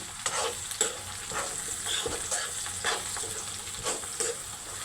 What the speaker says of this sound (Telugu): ఇప్పుడు ఒక మూడు పచ్చిమిరపకాయలు కోసి పెట్టుకున్న ముక్కలు వేస్తున్నాం వేగిపోయాయి కదా